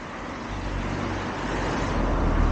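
Road traffic noise: a broad, steady roar of passing vehicles that swells slightly near the end, masking any running stream beneath it.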